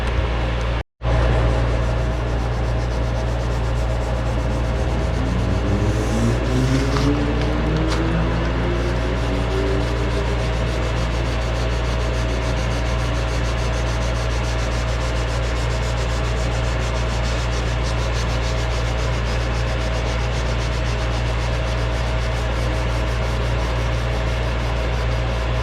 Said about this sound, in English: Get me a new piece of sandpaper and I'll start blocking that out.